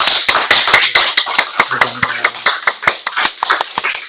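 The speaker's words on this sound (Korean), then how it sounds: "그 감사하면서 하나 박수 올려드리겠습니다" A church congregation claps in thanks to God, crisp close handclaps settling into a loose, fairly steady rhythm.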